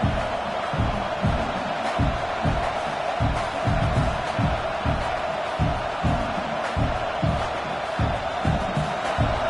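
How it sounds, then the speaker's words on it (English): Stadium crowd roaring at a Miami versus Oregon college football game, a loud continuous wall of noise with rhythmic pulsing chants or stomps running through it. "This crowd trying to make life miserable for this offense."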